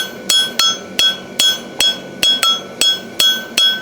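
A forging hammer strikes a hot horseshoe on an anvil during a farrier shoeing competition, about a dozen sharp, ringing metallic blows in a quick, even rhythm, loud and close with no talking.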